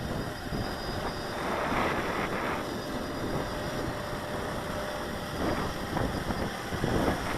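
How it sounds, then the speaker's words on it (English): Strong, gusty wind buffets the microphone outdoors at a drone hovering test, producing a continuous roaring rumble with intermittent louder gusts and no speech. "Can't really talk much about it with this hardcore wind."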